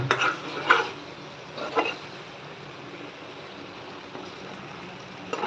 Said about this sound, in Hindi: ये गांव की याद वाली मसाला भून रहे हैं, मस्त वाली तगड़ी